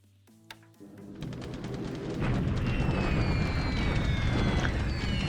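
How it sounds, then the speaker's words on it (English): City bombing in a Pacific war strategy game, a few sharp clicks giving way to a swelling, rumbling roar of explosions that builds and holds loud to the end. "Bombing the city."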